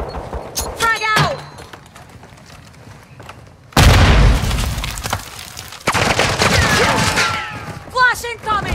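A frag grenade blasts in Call of Duty DMZ, a sudden loud broadband boom at mid-clip with a rumbling tail, then ongoing gunfire and combat noise, with game voice lines shouting around it.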